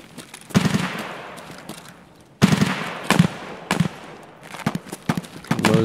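Loud Mosin rifle shots in the video game Escape From Tarkov crack out one after another, each with a sharp attack and long echoing tail, spaced irregularly across the clip.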